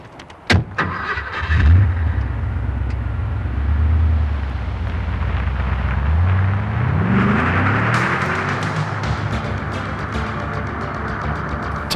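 A 1987 Porsche 928 S4 starts up and pulls away, its V8 engine rumbling close by and then climbing in pitch as the car accelerates off, with a door thump near the start and no talk.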